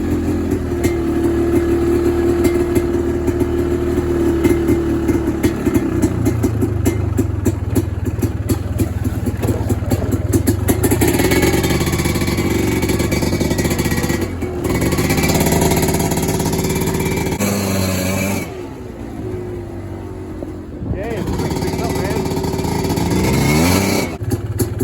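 A Polaris Scrambler 400 quad engine idles close and loud with a steady rumble, its tone shifting slightly as it settles and revs a little near the end.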